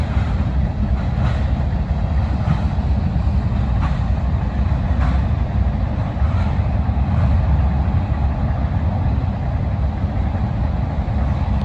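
A long CSX mixed freight train rolls past, a steady low rumble of wheels and cars with faint rhythmic clicks from rail joints, continuous and fairly distant.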